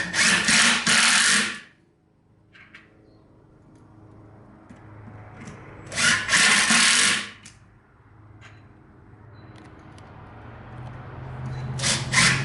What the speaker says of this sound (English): When that drill head or screw head is just below the surface, you release your trigger.